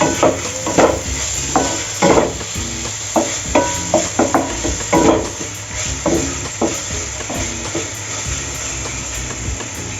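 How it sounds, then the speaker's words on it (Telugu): Onions and tomatoes frying in a pan while being stirred, with rhythmic scraping strokes of a spatula repeating roughly every half second over a steady sizzle, close and fairly loud, no talking. "ఇప్పుడు ఉల్లిపాయలు వేగాయి కదండి, సో వెంటనే టమాటో కూడా వేసుకొని మనం మొత్తం అన్నింటినీ దూరగా వేసుకోవాలి."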